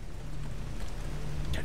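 Steady rain hisses through the S.T.A.L.K.E.R. Gamma video game world, a continuous broadband wash of falling water with no pauses across the short stretch.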